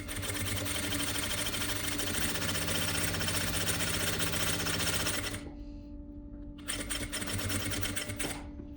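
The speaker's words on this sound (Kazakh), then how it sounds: "Енді осы лентаның екінші жағына тігіс түсіреміз." A sewing machine runs a continuous stitching line along a tape, close and steady with a fast mechanical whir, then stops briefly and starts again for a short final burst.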